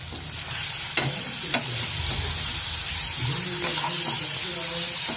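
Chicken pieces coated with turmeric and salt frying in a pan, a continuous sizzle with stirring scrapes and a couple of sharp utensil knocks, brief speech faintly in the background.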